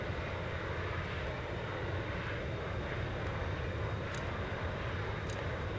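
A fighter jet's APU and engine spool up in the VTOL VR flight game, an EF-24G on the ramp: a steady, loud, broadband roar holds throughout with no talk, and a couple of faint high ticks are heard near the end.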